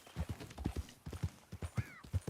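Horse hooves clip-clopping in the video game Red Dead Redemption 2, a steady rhythmic run of close, distinct thuds, with a brief whinny-like tone near the end.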